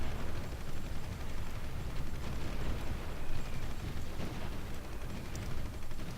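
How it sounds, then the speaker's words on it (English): Airstrike explosions in the war strategy game Supreme Ruler Ultimate, a dense continuous roar of rumbling blasts and crackling bursts with no pauses, moderately loud throughout. "We'll continue ordering airstrikes on that."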